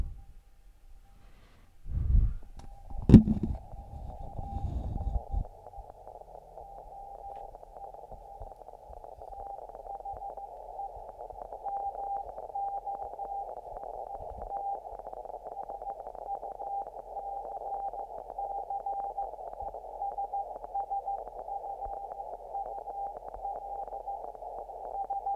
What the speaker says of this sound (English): Still horrible crackling noise, but it sounds better than the sideband did.